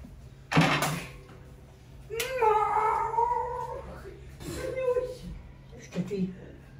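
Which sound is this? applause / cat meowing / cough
cat meowing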